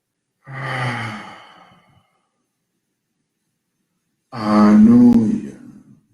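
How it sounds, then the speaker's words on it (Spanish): Two deep breaths during a guided meditation, each a long airy exhale or sigh, the second louder and closer, separated by a few seconds of silence. "Respiración profunda."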